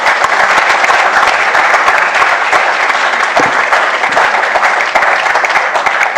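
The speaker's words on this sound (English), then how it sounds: "Let's also congratulate all our delegates with a massive round of applause" Audience applause fills an awards and valedictory ceremony hall, a dense, steady, loud wash of many hands clapping together, sustained throughout without pause or distinct voices.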